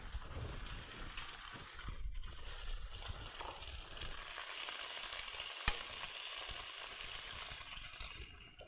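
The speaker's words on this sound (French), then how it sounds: "je vais mettre mon œuf dedans. Alors on va de quoi casser l'œuf pour faire un œuf sur le plat" An egg frying sunny side up in a pan for a greasy burger, a soft, continuous sizzle with faint crackles, quiet and steady throughout, no talking.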